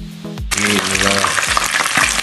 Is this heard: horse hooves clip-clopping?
no